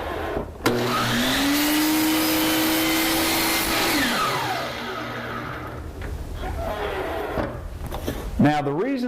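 A power saw cuts an inside corner in crown molding set in a Kreg Crown Pro jig: the motor spins up to a loud whine, holds for a few seconds, then winds down, followed by clattering handling noises and talk.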